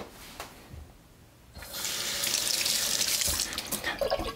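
Tap water runs into a container to rinse mustard seeds for fermented mustard, starting quietly and then becoming a steady, close splashing flow.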